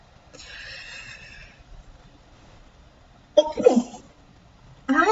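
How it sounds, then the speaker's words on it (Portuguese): A person sneezes loudly and close to the microphone, a sharp burst followed by a second explosive onset, with a brief softer exhale before it and no talk during the sneezes. "olha eu espirrando na live, desculpa aí"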